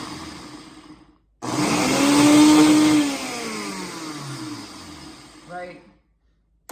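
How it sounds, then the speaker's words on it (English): Blender on its ice crush setting whirring through a chickpea falafel mixture, starting abruptly loud and running steadily for several seconds before winding down. "Pop it on the blender. And we're gonna put it on ice crush for a few seconds."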